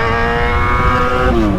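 A Yamaha XJ6 motorcycle engine roars loud and close in a sustained, buzzing high-revving drone.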